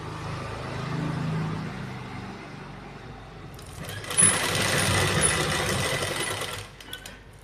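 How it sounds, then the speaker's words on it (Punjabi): A sewing machine stitches a strip onto the back neck of a garment. Quiet handling comes first, then a steady, close mechanical whir runs for about three seconds before it stops. "ਹੁਣ ਆਪਾਂ ਪੈਰ ਪੈਰ ਦੀ ਸਿਲਾਈ ਲਾਵਾਂਗੇ ਬਸ ਬਿਲਕੁਲ ਨਾਲ ਨਾਲ ਰੱਖਣਾ"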